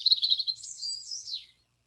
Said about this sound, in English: I can hear birds singing.